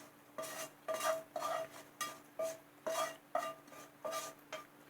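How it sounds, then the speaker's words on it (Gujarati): A spoon stirs mashed potato filling for sandwiches mixed with a mustard-seed tempering, making about nine rhythmic scraping strokes against a pot, close and fairly quiet, with no talking. "અને બરાબર હલાવી લેશું."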